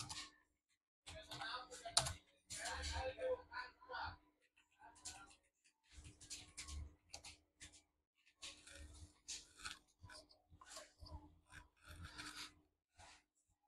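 Fingers typing commands on a computer keyboard while configuring a Cisco 2960 switch, with quiet clustered key taps and rubbing in short bursts separated by pauses.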